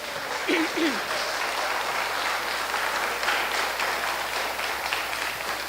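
Church congregation applauding for the Lord, a sustained dense wash of clapping filling the whole stretch at steady loudness, with a brief voice near the start.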